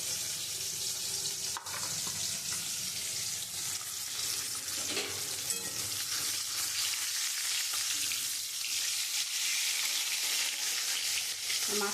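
Katla fish pieces frying in hot oil give a steady, dense sizzle with crackling spits throughout, close and loud, with no voices.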